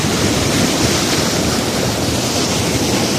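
Canal water rushes loudly and steadily past wooden stakes and planks set across the channel, a constant close roar with no breaks.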